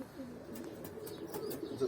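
Pigeons in a backyard coop in Antalya, a male pressing close on a crested hen, give soft low cooing and rustling with faint chirps and short wing flutters, fairly near and steady.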